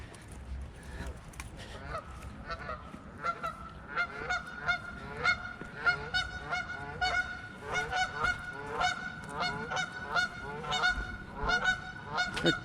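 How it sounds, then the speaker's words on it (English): Geese honking repeatedly by a creek with a gravel bar, a loud rhythmic series of calls from several birds close by, steady throughout with faint background ambience. "okay, we got geese"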